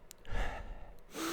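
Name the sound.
imitation of heavy breathing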